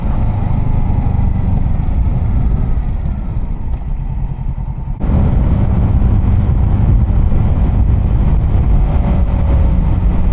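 A motorcycle ridden on country lanes and fast roads, with a loud, steady engine drone and heavy wind rumble throughout. A brief dip near the middle is followed by a sharp, louder return.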